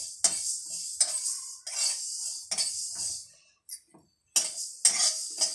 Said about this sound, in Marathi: आता हे आपण धने भाजून घेऊया